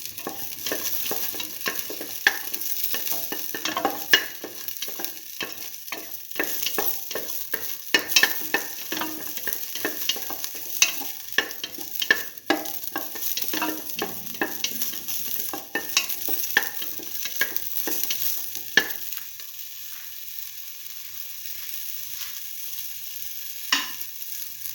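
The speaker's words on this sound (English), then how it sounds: "Now let the shallots fry for some time." Shallots fry and sizzle in a pan, a steady crackle with frequent stirring scrapes and clatter, close and alone without talk.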